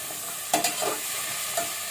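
Carrots are stirred into vegetable biryani in a pressure cooker: a soft background sizzle with a couple of brief scraping stirs, close up and with no talk.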